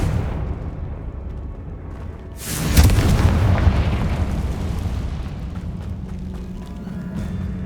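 Confringo fire spell in Hogwarts Legacy bursts into one loud, close explosive boom that rumbles and rolls off over a few seconds, with game music and ambience underneath.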